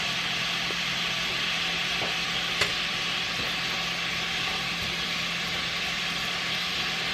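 Oxtails seasoned with salt cook down in a pan with a steady, even hiss and low sizzle, close and constant, with one faint click partway through.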